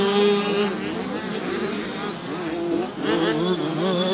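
Junior motorcycles race over a downhill jump at a world junior motocross championship round at Romagné, France, their engines droning loudly and steadily with a rising, wavering whine throughout.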